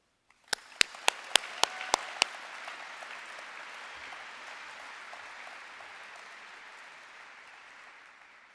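A school opening ceremony audience at a SkillsUSA Nebraska leadership conference breaks into steady applause, starting with a few sharp individual claps and swelling into sustained, fairly loud clapping from a large crowd.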